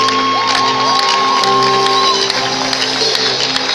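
A church congregation at a national prayer conference for Gabon cheers and shouts in acclaim of Jesus, a loud, sustained crowd roar with whoops and high cries over steady music.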